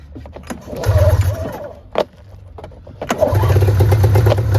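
An engine is pull-started by hand: a short rope-pull whir and sputter, then a sharp pull, then the motor catches and runs in a loud, steady, close drone.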